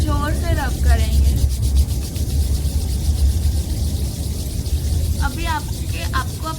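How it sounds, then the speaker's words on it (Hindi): Two hands rub together hard and fast. The close, steady, dry friction continues for several seconds without a break. "एकदम जोर से रब करेंगे।"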